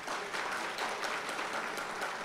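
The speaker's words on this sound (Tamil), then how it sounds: "அந்த பிள்ளைகளுக்கெல்லாம் ஒட்டு மொத்தமாக ஒரு கைத்தட்டல் கொடுங்களேன்" Steady, dense applause from an audience clapping for children at a Tamil comedy speech event, continuous and moderately loud with no talking over it.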